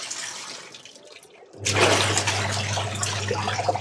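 Water gushes from a tap at home after a quiet, faint opening, starting abruptly and running steadily and loudly to the end, close by with no talk.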